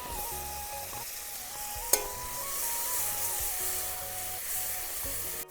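Steady sizzling of onion paste frying in a pan, with a brief clack of a utensil partway through; continuous and fairly quiet, no talking.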